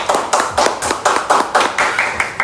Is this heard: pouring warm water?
no